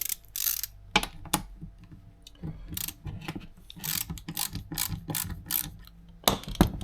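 A ratchet fitted with a 10mm socket clicks steadily while working on a Land Rover Discovery 300 Tdi, with rapid close ratcheting bursts and small metallic knocks in quick succession.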